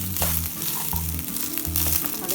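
Boiled rice with cloves frying in a pan, a steady crackling sizzle with soft stirring scrapes and low rhythmic thumps recurring about every three quarters of a second, close and fairly loud, no talk.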